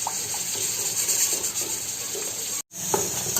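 Chocolate melts into milk in a pan while being stirred continuously for a cake made without an oven. There is a steady soft scraping and bubbling sound close by, with a brief cut just before the end.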